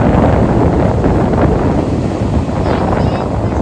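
Ocean waves on a beach at Varkala, Kerala, make a loud, continuous broadband roar and wash, with heavy wind buffeting the microphone throughout.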